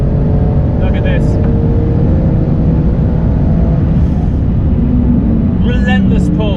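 A Porsche GT2 RS engine pulling hard under acceleration on a track while chasing a GT3 RS, a loud continuous roar with wind noise. A voice talks over it.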